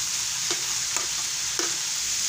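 Boiled mashed potatoes being stirred into a pea paratha filling in a pan, a steady soft sizzle with three faint scraping strokes of the spoon, close and without talk.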